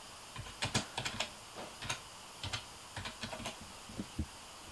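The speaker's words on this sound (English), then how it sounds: "you're just going to type ADB devices." Close, crisp keystrokes on a computer keyboard as a command is typed into a Windows command prompt, clicking in uneven bursts with short pauses and no talking.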